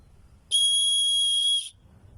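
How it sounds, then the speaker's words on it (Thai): A survival whistle built into a paracord bracelet gives one shrill, steady blast lasting about a second, loud and close, with quiet background noise before and after. "ต่อไปเป็นนกหวีด ขอความช่วยเหลือตรงนี้"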